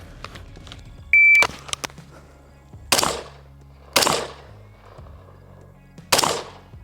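An AR-15 rifle fitted with a CMC drop-in trigger fires three loud, sharp shots roughly a second apart at an outdoor range, each with a brief echoing tail, after a short electronic beep and a few faint clicks.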